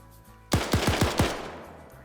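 Video game gunfire in a one-life PvP match ending in a headshot kill: a sharp burst of five rapid shots, loud and close, after a quiet moment, then fading ambience.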